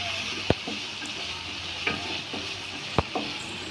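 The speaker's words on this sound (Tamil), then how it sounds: "ரெண்டையும் சேர்த்து நல்லா வதக்கிக்கலாம்" Onions and tomatoes fry in a pan for a crab gravy, with a steady sizzle broken by a few sharp spoon knocks and scrapes against the pan as they are stirred.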